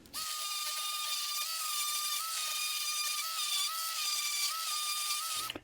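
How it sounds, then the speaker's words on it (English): An orbital sander running on wood with 150 grit sandpaper, a steady high-pitched electric whine with a constant buzzing hum held for about five seconds, starting and stopping abruptly, close and loud. "150 grit sandpaper with the orbital sander"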